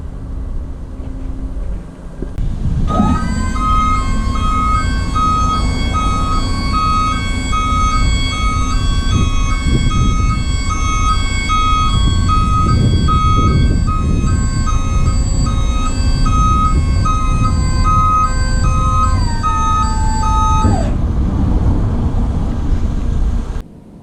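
The tipper body of a 2016 Ford Transit single-cab tipper truck rises with its hydraulic pump whining loudly and steadily. Close, repeated warning beeps sound throughout, and the sequence ends abruptly after about eighteen seconds.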